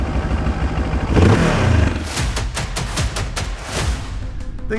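A Moto Morini X-Cape 700 motorcycle with a CFMoto-sourced engine gives a close, loud rev that swells and falls back, followed by a steady idle with rhythmic mechanical clatter; no voices.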